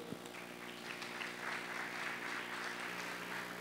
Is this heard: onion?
no